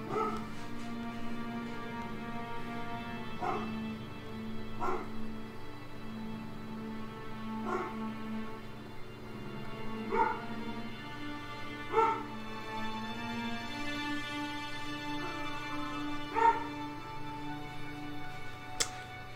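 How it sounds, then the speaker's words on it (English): A dog barks in sharp, spaced single yips indoors, repeating every couple of seconds over a steady tonal background hum, fairly near and moderately loud. "Oh, dog's freaking out."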